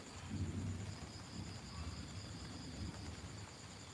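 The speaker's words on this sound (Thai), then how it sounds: "ฝนก็ตก" Rain pours down steadily while a low thunder rumble rolls in at the start and fades to a constant hiss, with no voices.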